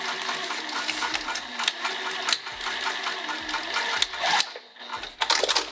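A sewing machine stitching through a bag corner, a close rapid mechanical whirr in short runs broken by thumps and pauses, no speech.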